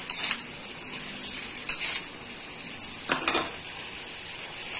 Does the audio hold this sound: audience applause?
no